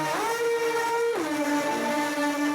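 Synth lead line pushed through a bit crusher with the Alter Boy drive knob maxed, giving a buzzy, harsh tone with sliding pitch shifts between sustained notes, loud and continuous without speech.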